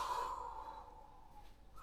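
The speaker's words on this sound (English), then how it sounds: "that's deep breathing" A single long, slow exhale during a deep-breathing demonstration, soft and breathy, fading steadily over about two seconds, close but quiet, with no speech.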